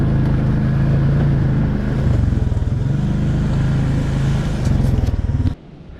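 A Can-Am Outlander 500 DPS ATV rides through the woods, its engine droning loud and close with a steady throbbing rhythm and small throttle surges, then cutting out abruptly near the end.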